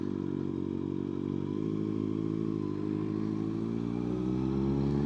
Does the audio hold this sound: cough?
no